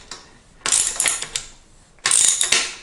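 A small bolt on a Peugeot crank is worked loose with a ratchet, giving two bursts of rapid metallic clicking separated by a quieter pause, close and crisp.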